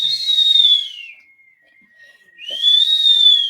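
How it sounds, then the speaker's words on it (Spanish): Two long, high, slowly falling whistles separated by a stretch of near silence, clear and close, with an eerie drawn-out tone. "El Tunche aparece en las noches con un silbido tenebroso."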